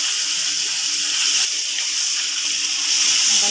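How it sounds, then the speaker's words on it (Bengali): Koi fish frying in hot oil for a fish and water spinach curry give a steady, loud, close sizzle and hiss that holds evenly throughout, with no talking. "মাছগুলি ভেজে নিচ্ছি"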